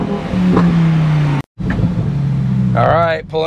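Lamborghini Huracan STO accelerating hard under launch control, a loud rising engine roar interrupted by a sudden brief gear-change cut, then surging again; a voice speaks near the end.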